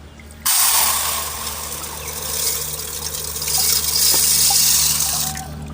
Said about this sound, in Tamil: தண்ணி ஊற்றி சுத்தம் பண்ணி எடுத்துக்கலாம்.